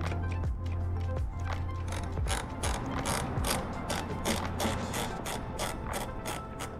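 Clutch lever adjuster on an Aprilia RS 660 motorcycle is turned by hand, giving a steady run of close, rapid ratcheting clicks.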